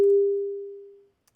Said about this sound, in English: Here's our sine wave.